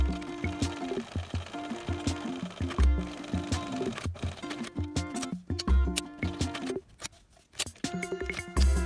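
A sewing machine stitches down a bag's handle accent in quick rattling bursts, each run a few seconds long, broken by short pauses and thumps, close and clear with no talk.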